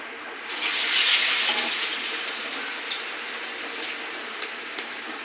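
Water runs steadily from a kitchen tap to wet hands while batter is being shaped, a close continuous splashing rush that swells at the start and settles into an even flow, with no speech.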